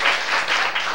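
An audience at a lecture on Taiwanese indigenous culture breaks into dense, loud applause, sustained continuous clapping from many hands filling the whole short moment.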